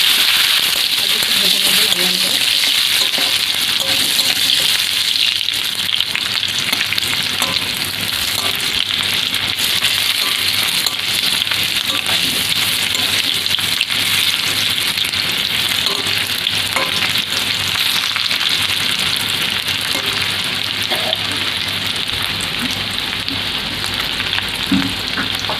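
Chilies blackening in oil with panch phoron, joined by hog plums, give a loud, continuous close-up sizzle and crackle for the whole stretch, with a voice faintly underneath at times.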